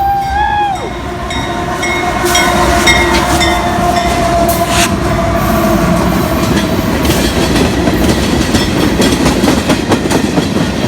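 A southbound Norfolk Southern or CSX freight train rolls past in Glendale, Ohio, its steady heavy rumble and rail clatter loud and close throughout, with faint wheel squeal and a brief horn-like tone near the start.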